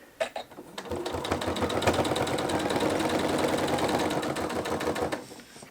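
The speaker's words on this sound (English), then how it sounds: "I'm going to sew, and then I'm going to stop 1/4 inch from this edge right here." Sewing machine stitching a quilt binding toward the corner, a rapid mechanical stitching rattle starting after a few clicks, running steadily and close for several seconds, then stopping.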